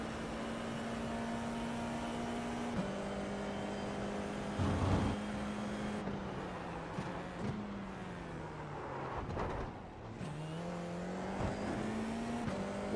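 An FIA F4 race car on an easy lap at Laguna Seca, its engine note holding steady, dropping through downshifts and climbing again as it accelerates, heard from on board at moderate level.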